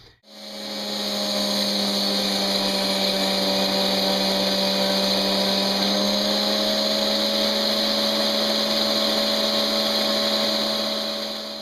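A power grinding wheel shaping knife steel spins up and runs steadily with a loud, even whine, a continuous mechanical drone with no voices.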